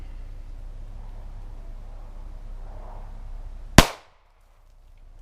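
A single sharp 9mm handgun shot fired at a cabbage cracks out loud and close, an abrupt bang after a few seconds of low outdoor rumble, followed by near silence.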